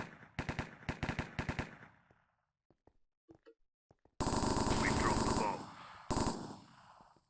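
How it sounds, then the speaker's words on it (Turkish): A gunfight in the Minecraft CS:GO game mode, heard as short automatic rifle bursts, then a near-silent gap with faint clicks, then a long loud stretch of sustained rapid fire. "Abi bir yerde çok güzel bir çatışma var."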